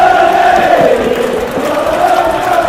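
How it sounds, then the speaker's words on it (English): A steady, loud crowd roar fills a WWE 2K wrestling match as fans cheer for Belle Elodie, swelling and dipping slightly without a break and with no clear voices above it. "the crowd going nuts for Belle Elodie"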